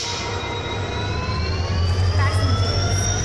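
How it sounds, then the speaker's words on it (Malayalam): A diesel-electric WDG-4 (EMD GT46MAC) freight locomotive with an EMD 710 prime mover gives a loud, steady, jet-turbine-like whine that slowly rises in pitch over a constant deep rumble. "EMD 710 പ്രൈം മൂവറിന്റെ പ്രത്യേകതയായ ജെറ്റ് ടർബൈൻ പോലുള്ള ശബ്ദം ഈ ലോക്കോമോട്ടീവുകളുടെ ഒരു പ്രധാന തിരിച്ചറിയൽ അടയാളമാണ്."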